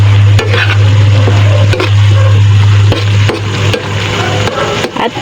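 Sarciado tilapia sauce stirred in a pan with a wooden utensil, repeated scraping strokes at a steady rhythm over a low sizzling hum.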